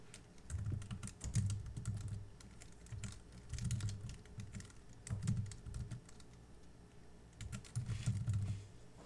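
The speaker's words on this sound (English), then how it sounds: "So I can just go ahead and type that in." Someone types on a computer keyboard in close, soft clusters of key taps, each burst a second or so long, separated by brief pauses, with no one talking over it.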